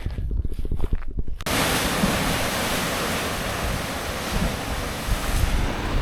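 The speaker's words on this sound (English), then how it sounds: "Nice and breezy, cooling me off, feels good." Ocean breeze near the shore in Maui rushes as a steady, loud wind noise across the microphone, with surf washing underneath after a brief rumbling start.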